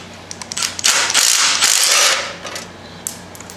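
Ratchet wrench turning out a bolt from the cover plate of a John Deere 212 lawn tractor, a close, loud burst of rapid clicking ratchet strokes lasting about a second and a half, with a few lighter ticks before and after.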